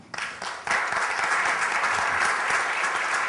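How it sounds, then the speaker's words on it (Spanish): Audience applause at a public event in Monterrey honoring an architect. Clapping starts in scattered bursts, then swells into full, sustained applause that carries steadily to the end. "vale la pena que le demos un aplauso"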